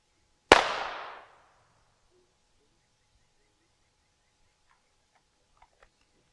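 A single handgun shot cracks out on an outdoor firing range, loud and sharp with a short decaying tail, followed by several seconds of near silence and a couple of faint clicks.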